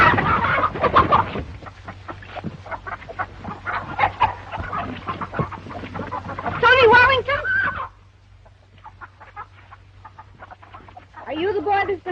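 Hens cluck and squawk close by in a busy flurry, with a shrill crowing-like burst partway through and more clucking toward the end.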